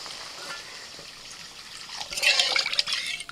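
Water poured into a frying spice paste of oil and dried chilli for lentil dal, rising from a quiet kitchen background into a sharp burst of hissing, crackling sizzle that then fades.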